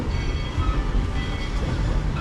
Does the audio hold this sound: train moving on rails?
yes